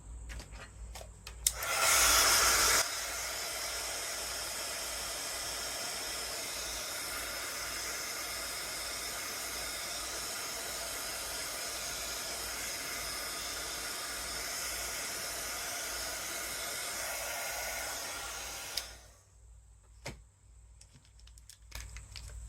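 A hair dryer blows steadily to dry paint on a canvas, a constant close whooshing hiss lasting nearly twenty seconds with a brief louder burst near the start, switching off before quiet handling sounds.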